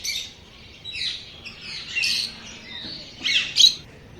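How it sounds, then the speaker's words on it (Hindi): Shrill squawks and rapid chirps from a group of lovebirds at a zoo, steady chattering rising into louder bursts near the end. "ये है लव बर्ड्स।"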